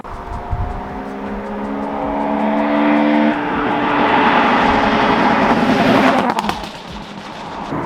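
A 230bhp Honda Civic Type R FN2 with a pop-and-bang map runs loudly, its engine rising in a sustained roar before a burst of crackling pops near the end, close and alone.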